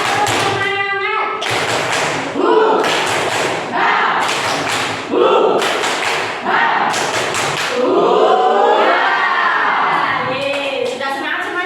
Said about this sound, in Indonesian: Lebih semangat lagi, lebih kompak lagi. 1, 2, 3. Tepuk semangat.